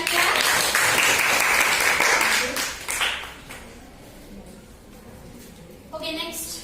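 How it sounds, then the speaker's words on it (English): Children clap together in a classroom during a lesson, a loud burst for about two seconds that tapers off, followed by a teacher's voice talking over the quieter room. "Give me a clap."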